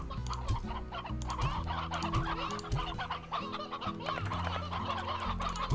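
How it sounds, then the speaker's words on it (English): Golden hens in the video game Slime Rancher cluck busily and continuously, several birds overlapping at close range against a low, droning background, with no voices. "Oh, I got a couple of golden hens in here."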